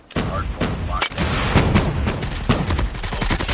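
HG 40 submachine gun firing in Call of Duty Mobile, rapid bursts of gunfire repeating loud and close through the whole stretch, with in-game noise around the shots.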